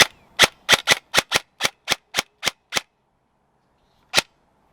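Airsoft gun fitted with an AceTech BiFrost tracer unit firing outdoors at night, ten sharp, loud shots in a quick steady rhythm, then a pause and one last shot, with no talking.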